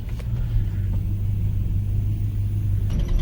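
A 1986 Chevrolet Silverado pickup's 305 V8, worn and burning a little oil, idles with a steady low rumble close by, holding an even drone before a brief change near the end.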